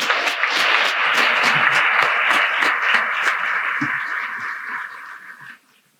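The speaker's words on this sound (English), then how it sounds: "I want to just give a big round of applause to everybody that joined us here on stage today." An audience at a city's state-of-the-city event applauds loudly and steadily, the clapping sustained for several seconds before tapering off and stopping abruptly near the end.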